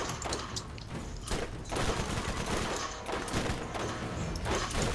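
Sniper and gunfire sounds from a co-op session of the video game Borderlands, a busy, steady wash of shots and impacts with sharp thuds popping out at irregular moments.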